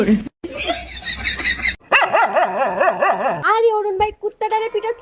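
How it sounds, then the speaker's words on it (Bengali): A pet dog barks and yips in short bursts amid loud, excited human voices in a domestic comedy scene. "লোক দেখলে তো কুত্তায় ঘেউ ঘেউ করবে"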